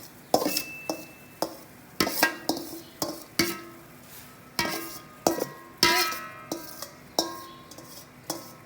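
Finely chopped onions, about two kilograms, being stirred into boiling water in a pot, with repeated sharp clinks of a utensil against the metal and scraping swirls coming in an uneven rhythm close by, with no talking.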